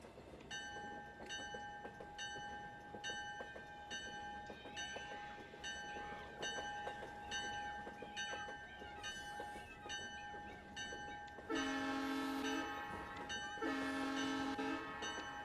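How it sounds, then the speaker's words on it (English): Diesel train engine in the video game ArmA 3 rumbles steadily with rhythmic rail clatter, then a loud two-blast horn sounds near the end, each blast about a second long. "I'm on the train engine now. I want to slow it down now."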